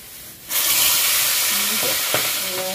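Vegetable poriyal sautéing in a pan, a loud steady sizzle that bursts in after a brief quiet start, with a few spatula scrapes and taps against the pan, close and without speech.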